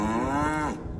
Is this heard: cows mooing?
yes